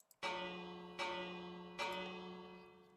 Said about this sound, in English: That's a mechanical bell.